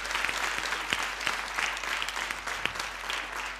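A television studio audience applauds singers after a performance, dense sustained clapping from many hands throughout, with a faint voice at times.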